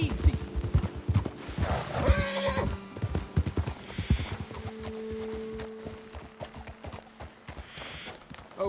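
Horse hooves in a video game clip-clop steadily at a walking pace, with a horse whinnying partway through and faint background tones from the game soundtrack.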